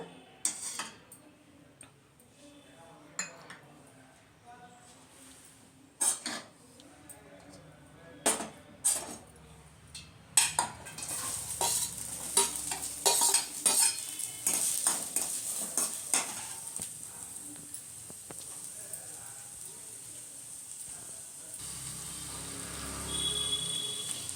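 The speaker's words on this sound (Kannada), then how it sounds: "ಎಣ್ಣೆ ಆನಿಯನ್ನು ಟೊಮೊಟೊ ಕರಿ ಲೀವ್ಸ್ ಹಾಕಿದೆ" Onion, tomato and curry leaves dropped into a little hot oil in a pan for bread masala, with clattering spoon and pan knocks, then a steady close sizzle building under scraping stirs; no voices.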